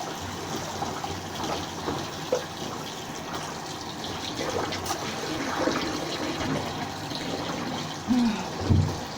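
Hand-washed clothes rinsed in a basin of water, soft sloshing and trickling splashes throughout, with a couple of louder swishes near the end.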